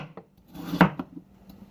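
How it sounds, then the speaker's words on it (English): A knife chops and scrapes on a cutting board while shrimp lo mein is being prepared: a few close knocks and rasping strokes, with one stronger cut in the middle. "ASMR chopping."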